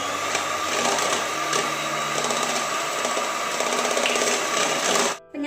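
Electric mixer whirring as it beats doll cake batter with powdered sugar, a loud, close, steady motor buzz with a rattling edge that cuts off abruptly just before the end.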